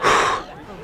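A single short, forceful exhale during a resistance band exercise, close and breathy, fading quickly into quiet.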